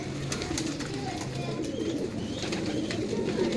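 Low, soft cooing from a Pakistani dab-marked pigeon kept by a fancier, a steady murmur of coos under light background noise throughout.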